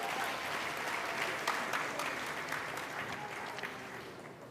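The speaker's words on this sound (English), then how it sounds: "We want to give a big round of applause to all three schools who would have participated." Audience at a schools' Black History elocution contest giving a sustained round of applause for the participating schools, a dense even clapping from many hands that slowly fades.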